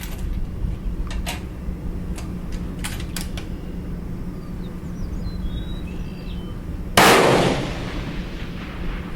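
A single sharp rifle report from long-range target shooting at about 900 yards cracks out loud in open air and rings off briefly, with faint outdoor background before it.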